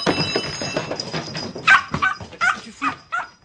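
A dog barks, yips and whimpers close by in a tense scuffle as it attacks a man, its sharp bursts coming in a rapid, uneven series alongside shouting and struggling.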